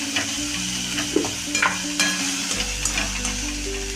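Tomatoes frying with red chili powder and turmeric for a pasta dish, a steady close sizzle with scraping stir strokes and light clinks running through the whole stretch, no voices.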